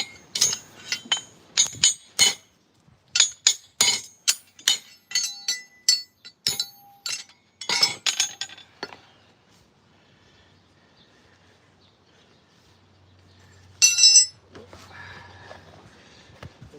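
A farrier drives nails into a horseshoe with sharp metallic hammer taps in quick clustered runs for several seconds, then a long lull broken by one more ringing strike.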